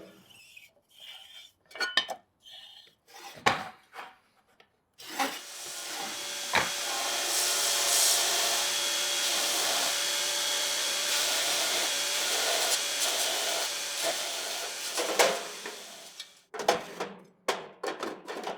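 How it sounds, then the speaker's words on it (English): Wooden boxes being ground down in height for an organiser trolley: a loud, steady power-grinder roar and hiss lasting about ten seconds, with shorter bursts and workshop clatter before and after. "Now I need to grind the height so they'll fit evenly between the shelves."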